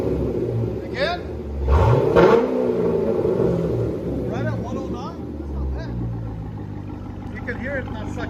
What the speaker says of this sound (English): You can hear it not sucking in as much like that with the H-pipe.